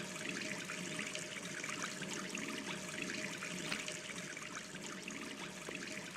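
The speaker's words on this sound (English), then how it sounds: "And get in the sink. It's a sparkle hand wash party." Water runs from a sink tap in Gone Home as hands are washed with soap, a faint, steady trickle and splash with no voices.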